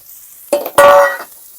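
Prawns tossed in a sizzling pan with speck fat: a quick metallic clatter and scrape of the pan, then a louder burst of sizzle as they land, fading back to near quiet.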